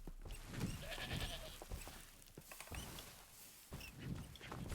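Sheep in the Minecraft video game bleat in several wavering cries, with the clearest calls near the start and the end. They sound mid-distance and steady amid a busy layer of game noise.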